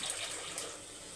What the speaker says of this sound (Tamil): அடி பிடிக்காமல் இருக்கிறதுக்கு கொஞ்சமாக தண்ணி ஊற்றிக்கலாம்